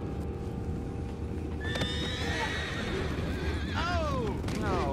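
Horses in Red Dead Redemption 2 neigh and whinny in several rising-and-falling calls over steady hoof clip-clop and low rumbling, fairly close and loud.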